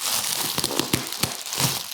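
Taped packaging being torn and unwrapped from a KitchenAid Accolade 400 stand mixer, a close, continuous burst of crinkling and ripping with sharp crackles.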